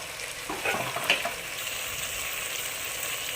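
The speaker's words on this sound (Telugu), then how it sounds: "వెజిటేబుల్స్ అన్నీ బాగా మగ్గేదాకా కలుపుకోవాలి" Vegetables for vegetable pulao frying and being stirred in a pan, a steady hiss of sizzling with a few scraping stirs early on, close and alone without any talk.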